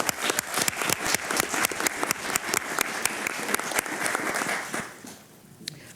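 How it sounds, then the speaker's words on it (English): An audience at a county commissioners' meeting applauds warmly, dense sustained clapping that carries on for several seconds before thinning and fading near the end. "Let's have a round of applause."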